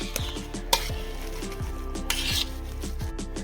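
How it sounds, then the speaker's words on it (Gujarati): Boiled potatoes are mashed in a bowl for pani puri, a run of soft rhythmic thuds and squelching presses with occasional sharper knocks of the masher against the container, close and steady with no talking. "આ રીતે છે બધા બટેટાને આપણે છૂંડી લેશું"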